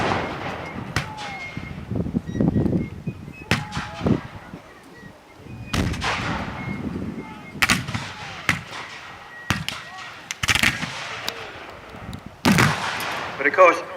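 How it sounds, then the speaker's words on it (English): Civil War battalion firing a musket volley: loud, sharp reports crack out irregularly, some close and some farther off, spread over the whole stretch with brief pauses between shots and echoing booms. "when a battalion fires as a volley, you can see the amount of firepower within the larger formations"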